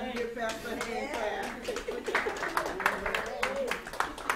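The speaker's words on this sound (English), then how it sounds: "Everybody give Pastor a hand" A church congregation applauds for their pastor during a Wednesday evening service, with scattered hand claps mixing with talking voices in a reverberant hall.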